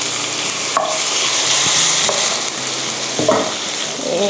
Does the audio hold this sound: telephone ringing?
no